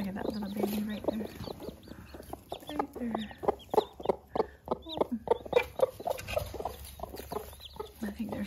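Hens cluck softly and repeatedly with their chicks on an urban farm, close by, in short irregular bursts of clucks and peeps as they feed.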